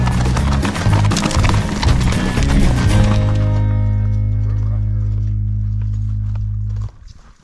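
Horse hooves clip-clopping on a trail while riding through a canyon in wild west country, a steady busy rhythm up close for the first few seconds, then thinning out under a sustained low tone that cuts off near the end.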